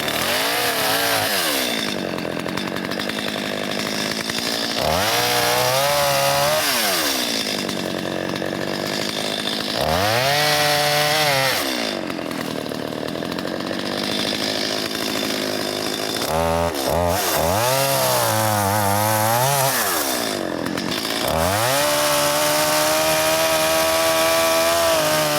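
Chainsaw cutting up storm-fallen, tornado-downed trees, its engine revving up and bogging down through repeated cuts in bursts, loud and close throughout, with no talking.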